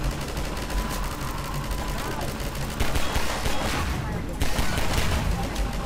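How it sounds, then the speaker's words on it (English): Rapid bursts of video-game gunfire from Half-Life 2: Episode Two crackle loudly and almost continuously, with a dense wash of shots and effects filling the whole stretch. "I'm trying to shoot these stupid..."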